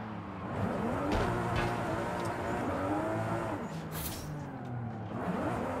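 Toyota Supra A90 street drifting in Forza Horizon 5, steady engine roar rising and falling with revs and sliding tire noise, a sharp brief squeal near the middle, no talk.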